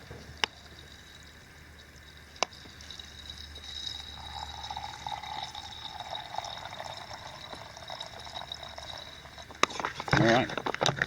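Water is poured into a pot over a dehydrated trail meal on the Appalachian Trail, a soft trickling pour under faint outdoor ambience, with a couple of sharp clicks and a louder splashy burst near the end.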